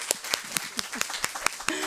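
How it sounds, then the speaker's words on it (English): A small group at a health coverage town hall gives sparse applause: a handful of distinct, evenly spaced claps at close range, with a brief voice near the end. "let's give her a round of applause"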